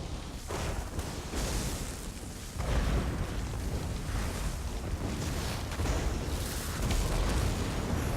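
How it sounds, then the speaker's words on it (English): A Spectral Explosion spell from a Magicka Sorcerer in a video game erupts as a sustained, loud roaring blast, with a sharp surge about halfway through and a steady rumbling wash throughout. "Spectral Explosion right here."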